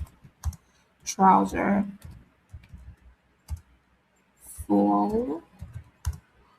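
Keystrokes on a computer keyboard entering text into an ordering form, a few scattered soft clicks between stretches of someone talking.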